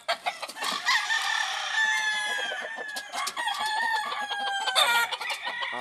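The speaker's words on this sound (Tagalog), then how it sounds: "Lods yung gaganda ng inahin lods oh. Saka yung tandang oh" Hens cluck and a rooster crows in the breeding season, with several crows and overlapping clucks sounding close and loud, with no talk over them.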